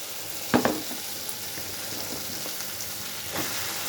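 Bitter gourd pieces drop into a pan of frying spice paste made with garlic and ginger, a sharp clatter and burst of sizzle, then a steady close frying hiss with occasional stirring scrapes.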